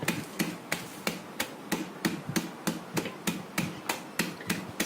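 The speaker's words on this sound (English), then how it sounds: "So just pound them like this with a rolling pin." A rolling pin pounding hazelnuts inside a closed bag, a steady series of about fifteen dull thuds with crunchy cracks, evenly spaced and close by.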